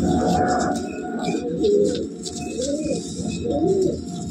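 Close, soft cooing of a pigeon, several throaty rolling coos repeated about once a second over a low rumbling background hum.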